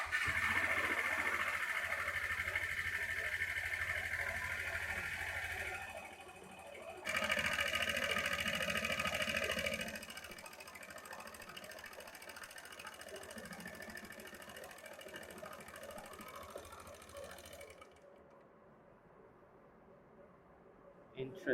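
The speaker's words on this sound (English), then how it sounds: "there's some weird noise coming out from the bike" A Honda MSX125 motorcycle engine runs with a weird noise, a busy, rapid mechanical chatter heard close up that dips briefly, then fades down near the end, with voices talking over it.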